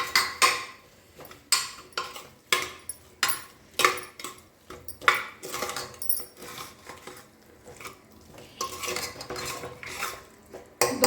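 Peas and potatoes being sautéed in masala in a pan, heard as a steady run of sharp metallic clinks and scrapes from a spoon against the pan, close and fairly loud, coming in irregular rhythmic bursts with no talking.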